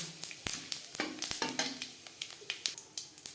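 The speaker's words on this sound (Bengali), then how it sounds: "দশ পনেরো সেকেন্ড জিরে তেজপাতা ভেজে নেওয়ার পর" Whole cumin seeds and bay leaves fry in oil in a kadai that was just used for frying fish, making a steady close sizzle with quick crackles and a light stirring scrape.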